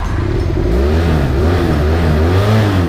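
A motorcycle engine revs steadily, its pitch rising and falling in smooth waves, loud and close with no voices.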